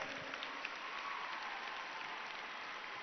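Children at a yoga and education gathering applaud together, a dense, continuous burst of clapping that stays loud and even for about three seconds with no voices standing out.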